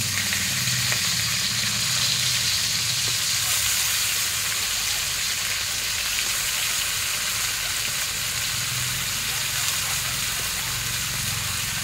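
Shrimp sizzle and fry in a hot pan for a home-cooked provincial-style dish, a steady dense crackle throughout with occasional stirring and faint background voices.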